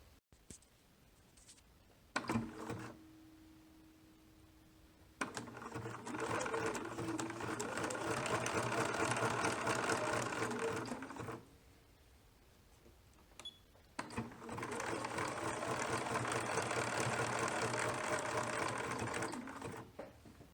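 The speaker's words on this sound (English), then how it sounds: "I'm going to zigzag it into this seam allowance right here" Sewing machine zigzag stitching ribbon into the seam allowance of knit baby leggings, two long steady runs of fast mechanical whirring and needle chatter separated by a quiet pause, loud and close.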